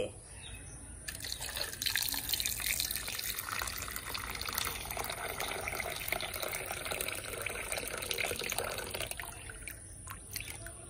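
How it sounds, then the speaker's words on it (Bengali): Water is poured into a fish-filled biryani container that is then turned over, a close trickling and splashing stream that builds after a second, runs steadily for several seconds, then tapers off with a few drips. "এই যে এর মধ্যে এখন জল দিয়ে দেবো, একদম উল্টিয়ে"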